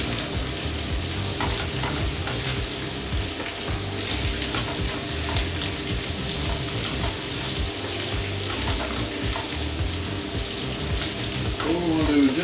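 Garlic prawns with cream and cheese sizzle steadily in a pan, a continuous loud frying hiss with stirring clatter throughout, plus a brief clink near the end.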